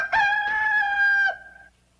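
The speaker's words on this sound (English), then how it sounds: "it's a pushy chicken" A pushy chicken gives a loud, drawn-out squawking call in two harmonic bursts, trailing off as a fading cry, with no talk over it.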